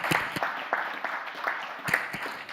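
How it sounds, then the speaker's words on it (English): A conference audience at a Vision Zero innovation workshop applauds its panel members with a sustained round of moderately loud clapping, with no talk over it. "a big round of applause to all our panel members here"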